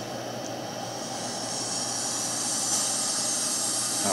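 Steady, loud whine and roar of a Singapore Airlines A380-800's spinning jet engine turbines in a flight simulator game, a continuous drone rising slightly in intensity with no speech.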